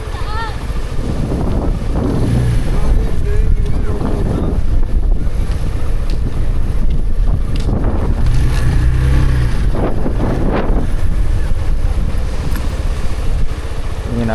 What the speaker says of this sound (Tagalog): Tingnan natin, lakas ng alon.